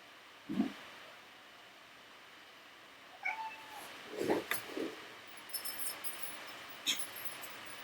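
A cat meows indoors, giving a few short, fairly faint meows spread across a quiet room with a soft hiss of background noise and occasional light clinks.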